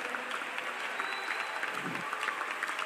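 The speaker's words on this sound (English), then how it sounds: "If you are clapping, clap very well." Congregation applauding at a church youth convention sermon, a steady, dense wash of many hands clapping throughout, fairly even in level without distinct speech.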